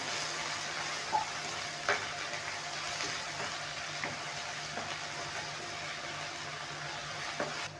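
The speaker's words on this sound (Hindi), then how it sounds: "प्याज डालने के बाद इसे मैं 3 से 4 मिनट के लिए फ्राई करूंगा।" Onions fry softly in a pan, a low, steady sizzle with a few faint clicks of a utensil, close but quiet, no talking.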